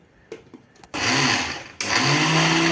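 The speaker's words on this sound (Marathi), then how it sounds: "पहिला घातलेला पालक थोडासा मिक्सरमध्ये फिरवलाय" A mixer grinder whirs loudly after a few light knocks, blending spinach into paste, stops briefly, then starts again and keeps blending with a steady motor roar.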